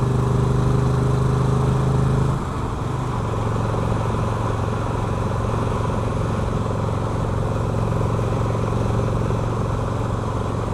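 A motorcycle cruises on a highway at about 72 mph and 2,700 RPM, its steady engine drone and wind roar loud and continuous, with a brief dip in engine note early on before settling into an even hum.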